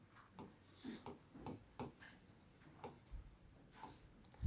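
A pen or chalk scratches and taps across a board during a biology lesson, a series of short, quiet strokes in an irregular rhythm, close and faint with no speech.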